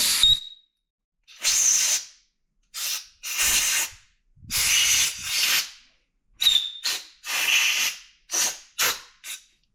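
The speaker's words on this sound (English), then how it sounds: "first things first, blow out the threads." Compressed air blows out dirty bolt threads in a Foxbody Mustang engine block, about a dozen sharp hissing bursts of varying length separated by short silences, close and loud.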